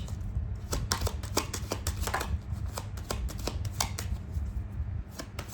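Tarot cards being shuffled, a steady run of crisp riffling slaps and flicks up close, continuous and alone with no voices.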